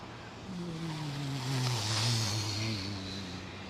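Four Merlin aircraft engines flying low overhead on a departure at London Heathrow: a deep, droning harmonic roar that swells as it passes close above and then slowly eases away.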